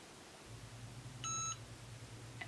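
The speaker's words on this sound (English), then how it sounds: "Once the Easy Press beeps," A Cricut EasyPress heat press gives one short, clear electronic beep as its pressing time ends, standing out against a quiet room hum.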